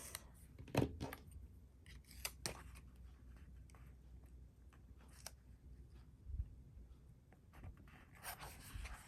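Scissors snip through the bottom of a planner page, giving a few sharp, quiet cuts and paper rustles scattered across a near-silent room, close and faint.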